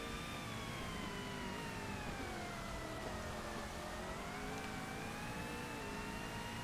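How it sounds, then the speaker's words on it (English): A race car in Forza Motorsport runs with a high transmission whine, a thin tone rising and falling with engine speed over a steady engine drone, continuous and alone with no talk. "I can only hear the transmission whine in this car."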